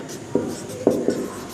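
Chalk tapping and scratching on a classroom board as a teacher writes, three short distinct strokes close by in a quiet room.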